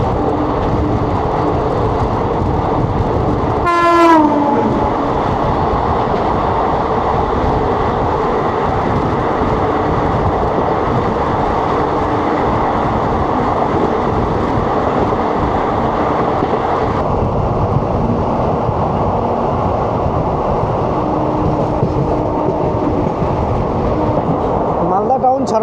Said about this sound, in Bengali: চলে আসছে 13175 শিবচর থেকে শিয়ালদা কাঞ্চনজঙ্ঘা এক্সপ্রেস।